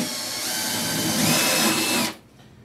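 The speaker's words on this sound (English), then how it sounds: "Now I'll come in and drill right into the corner." A power drill whirs steadily at close range for about two seconds, drilling into a wall corner, its motor pitch shifting slightly under load, then stops abruptly.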